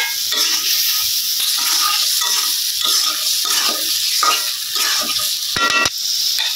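Spice paste of onion and green chilli frying hard for a small fish curry, a constant loud sizzle broken by rhythmic scraping strokes of a spatula and a brief rattling clatter near the end.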